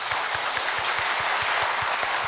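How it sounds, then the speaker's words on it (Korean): Church congregation applauding an elder during a Korean Sunday worship service, steady full-room clapping throughout with a rhythmic low thump underneath, no talk over it. "우리 박수와 격려와 축하해 주시기 바랍니다"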